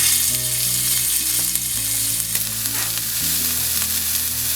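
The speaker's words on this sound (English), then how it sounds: "You can just cut it up into small bits and then fry it on a frying pan with a little" Small bits of pork frying in a pan with a little oil, a steady close sizzle and crackle running throughout with soft music underneath.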